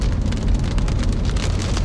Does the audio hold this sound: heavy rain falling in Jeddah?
yes